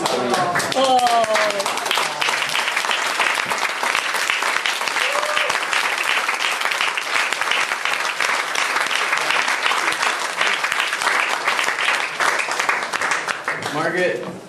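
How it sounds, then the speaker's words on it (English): Long, loud burst of audience applause at an awards ceremony, dense clapping filling the room steadily for the whole stretch, with a few voices and cheers mixed in early on before fading near the end. "Margaret, that all that applause, that was for you."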